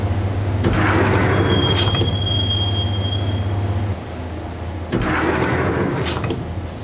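Subway train riding on rails to Roscoe Street Station in the video game Max Payne, a steady loud rumble of wheels with sharp high wheel squeals and periodic clattering bursts, no talk.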